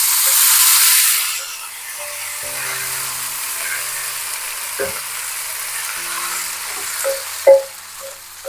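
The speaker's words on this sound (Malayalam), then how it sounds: "ഇനി അതിലേക്ക് അരിഞ്ഞു വെച്ച ഉഴുന്നില ഇടുന്നു." Chopped urad dal leaves hit a hot pan with rice and dried chilli, a loud initial sizzle settling into a softer steady frying hiss, broken by occasional scraping and stirring clinks.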